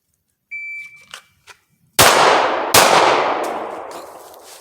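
A shot timer's electronic beep and a few small clicks come before two sharp, loud gunshots about a second apart in a draw-and-fire shooting drill and competition at Dreamland, each blast ringing and echoing as it fades.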